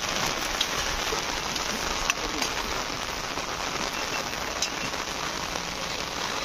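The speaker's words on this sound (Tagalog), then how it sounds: "Umuulan, silong muna tayo." Steady heavy rain from Typhoon Enteng falling on a surface, a dense continuous patter with occasional louder drops, close by.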